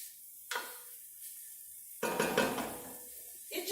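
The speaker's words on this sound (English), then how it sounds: "So we're just going to kind of give that a toss around a couple of times." Onion and garlic tossed in a hot pan, with a quick clatter of the pan followed by a burst of sizzling and rattling as the food is shaken, then quieter between tosses.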